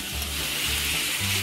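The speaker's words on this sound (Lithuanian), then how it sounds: "Kepame ant aukštos liepsnos." Carrots fry with wild boar meat over a high flame, giving a continuous close sizzle and crackle with faint stirring scrapes and no talking.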